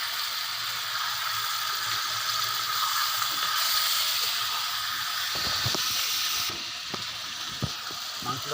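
Broiler chicken frying with coriander powder in a pan, a loud, continuous hissing sizzle with a few sharp knocks and stirring scrapes near the end, heard close up without talk.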